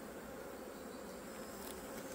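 Honeybees hum at an open hive during a colony inspection, a soft, dense, continuous buzz from many insects close by.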